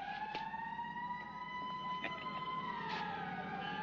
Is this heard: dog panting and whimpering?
no